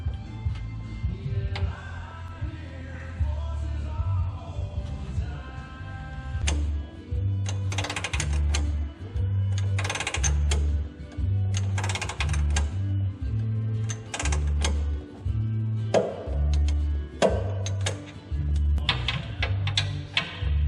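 A tool clicks while a traction bar bolt is backed out on a Dodge Ram 5.9/6.7 Cummins with a jam nut tool held in place: close bursts of rapid ratchet-like clicking, separated by short pauses, over a low steady hum.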